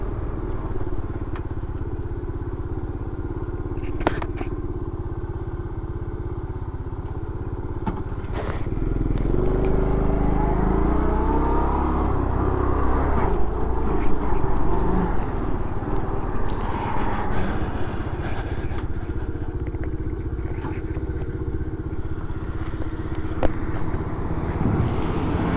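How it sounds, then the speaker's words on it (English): Honda CT110 motorcycle engine running with trouble during a high plains rally ride, a steady low rumble that swells louder midway with occasional clattering thumps, heard close throughout. "I think Venture's got some trouble with his bike here."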